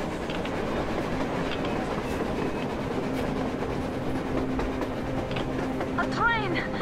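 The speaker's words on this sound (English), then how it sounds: "A train! A damn train on the surface!" A train runs on the surface in the post-apocalyptic game Metro Exodus, set around Moscow, giving a steady rumbling rail noise with a rising whistle-like squeal near the end while game characters talk over it.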